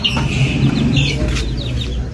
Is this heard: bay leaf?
no